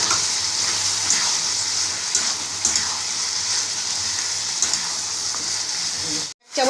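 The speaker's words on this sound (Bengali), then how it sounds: "ভালো করে নেড়ে নিই আগে" Chilli paneer fries in a pan while being stirred, giving a steady close sizzle with scraping, clattering strokes of a spoon at intervals, and the sound cuts out abruptly near the end.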